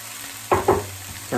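Ground beef and vegetables are stirred together in a hot pan, with a low, steady sizzle broken by a few short, sharp scrapes and knocks of the utensil.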